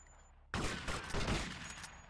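A sudden burst of rapid gunfire erupts in GTA Vice City, a loud volley of overlapping shots that continues without pause after a quiet start.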